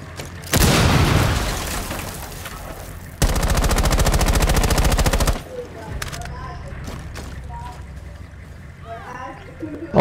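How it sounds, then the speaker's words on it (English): Maestro operator shooting in Rainbow Six Siege, a loud, dense burst of rapid automatic fire lasting about two seconds after a heavy boom, followed by quieter game sounds and brief voices. "Oh, the maestro's shooting it out."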